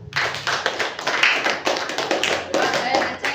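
A class of schoolchildren applauds a classmate after a math problem at the board, a burst of many hands clapping close by, fast and uneven, sustained for a few seconds with loud peaks.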